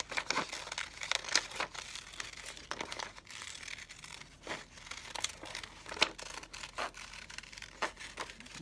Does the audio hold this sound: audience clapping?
no